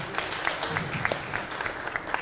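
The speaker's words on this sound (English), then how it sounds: "A round of applause, a round of applause." A small audience at a Uganda–Tanzania investment conference gives a round of applause, quiet scattered clapping that stays fairly even for a couple of seconds, heard from a distance.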